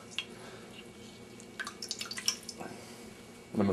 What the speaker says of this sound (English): I'm going to wring out the Shameze